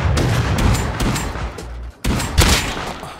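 Dense bursts of gunfire in the survival game Rust during a raid, rapid overlapping shots in heavy volleys with a short pause before another loud barrage.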